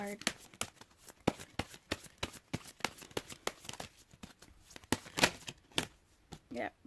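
Tarot cards being shuffled by hand in a steady run of crisp, riffling flutters up close, while a person talks over them throughout.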